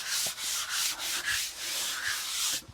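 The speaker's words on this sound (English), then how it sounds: "The grinder just wanted to bounce up down on it" A grinder polishing a concrete countertop gives a loud, close, rhythmic abrasive rasp in repeated sweeps of about half a second each, with no talking over it.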